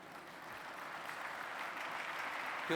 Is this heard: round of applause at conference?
yes